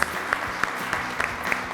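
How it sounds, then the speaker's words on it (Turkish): Applause for two competing groups on a Turkish children's game show, a steady burst of clapping with sharp peaks throughout, moderately loud and close, with no voices over it. "Evet, iki grubumuza da alkış gönderiyoruz."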